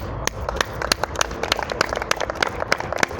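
An audience claps for Turkish students finishing their preparatory year in Russia, producing brisk, irregular individual claps that are clear and fairly close, with no talk over them.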